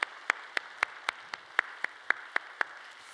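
Slow, sparse claps from a congregation during a Sunday church service, about a dozen sharp evenly spaced hits over a few seconds, clear and fairly close with no voices.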